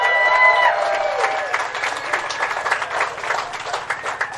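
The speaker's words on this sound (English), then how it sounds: "Please give a round of applause for an incredible icon." A crowd applauds and cheers at an outdoor Hollywood Walk of Fame star ceremony honoring Keith David, steady clapping that builds from a loud start and then stays even.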